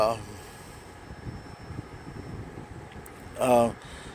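Steady wind of about 15 mph rushing and buffeting across the microphone beside train tracks, with a brief voice breaking in near the end.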